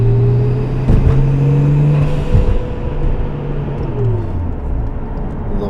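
Car engine, in a car project alongside an MR2 and a Skyline, revving up and down with a rising whir as the turbo spools, loud and close, then settling into a steady rumble, with no talk.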